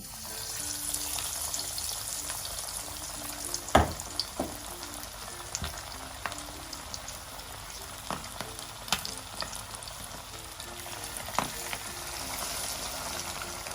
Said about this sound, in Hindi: तेल को हम फ्राई पैन में गरम कर लेंगे। अब इसके बाद हम इसके अंदर चिकन डालेंगे।